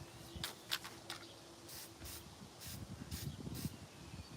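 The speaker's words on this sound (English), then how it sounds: "Oh, spraying it back on myself." A spray can hisses out paint in a series of short, quiet bursts of irregular rhythm, close by, with no talking.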